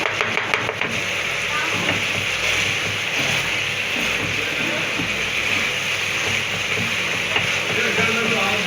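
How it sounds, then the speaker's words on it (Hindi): Tomatoes frying in a pan for mixed dal, a steady loud sizzle with occasional stirring scrapes running throughout. "टमाटर सारे अच्छी तरह से भून जाने चाहिए।"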